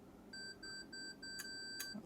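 Repeated electronic beeps from a Hasselblad X2D II camera self-timer, a steady run of short high tones at an even rhythm, close and fairly faint, with no talking.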